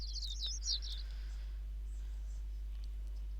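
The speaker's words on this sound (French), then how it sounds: "Le son des oiseaux... Enfin, le chirping." Birds in a video game chirp in a quick burst of high, bright twitters near the start, then fade out over a low, steady hum.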